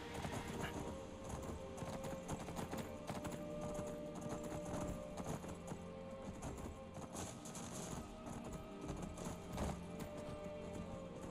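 Horse hooves in the video game Skyrim clip-clop steadily and close, a continuous clattering gait over a dense game soundscape, no one speaking.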